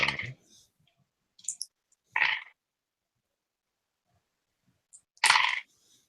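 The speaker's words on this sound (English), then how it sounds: "Yeah, that sounded like a lot of dice. I heard so many dice." A handful of dice clatter in a few short rattling bursts separated by silence, close and fairly crisp, with nothing else beneath them.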